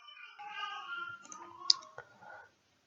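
A computer mouse clicks on an install button during a software setup, giving several short sharp clicks, one standing out crisp and close, among faint tonal computer and background sounds.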